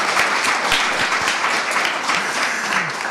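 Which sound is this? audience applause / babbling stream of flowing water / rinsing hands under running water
audience applause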